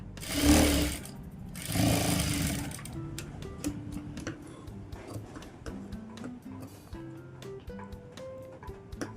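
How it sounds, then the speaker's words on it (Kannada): A sewing machine stitches a lining blouse hemming strip, opening with two loud whirring bursts and then settling into a quick, steady ticking of the needle at close range. "ಇದ್ರ ಮೇಲೆ ಇನ್ನೊಂದು ಸ್ಟಿಚ್ ಹಾಕೋತೀನಿ"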